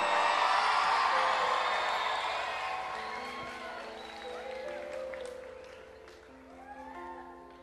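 A crowd of teenagers at a Christian sermon erupts in loud cheering, whooping and shouting that peaks at the start and gradually fades, with a few voices still calling out near the end.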